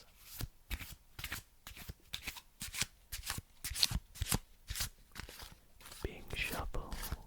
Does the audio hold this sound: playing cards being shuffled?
yes